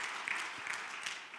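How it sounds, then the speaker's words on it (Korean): A church congregation at an evening revival service in Korea gives a brief burst of applause, with fairly soft, steady clapping and a few sharper claps. "여러분 큰 박수 한번 해주시기 바랍니다."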